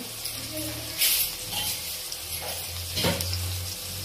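Turmeric is added to onions frying in oil in a pan. A quiet, steady sizzle runs throughout, with a couple of brief louder stirring bursts.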